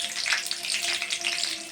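A tempering of curry leaves, dried chillies and mustard seeds sizzles in two spoons of hot oil in a pan, a soft, crackling hiss with tiny pops, close and fairly quiet.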